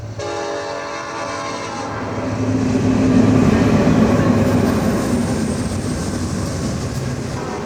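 A train rolls along railway tracks, a steady loud rumble with rail clatter that swells toward the middle and then holds, with no voices.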